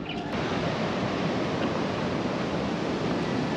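Large ocean surf stirred by typhoon winds crashes along the rocky northern coast at Laomei, Shimen, a loud, steady roaring wash of water.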